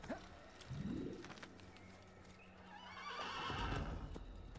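A horse in the Assassin's Creed video game whinnies in a rising call, then hooves clop under a steady hum, ending in a louder rustling burst.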